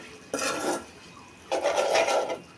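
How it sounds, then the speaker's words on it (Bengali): A utensil stirs mashed green bananas with spices in a pan, producing two bursts of scraping and clattering separated by a quiet pause. "একদম নেড়ে ছেড়ে ভালো মতো শুকনো শুকনো করে"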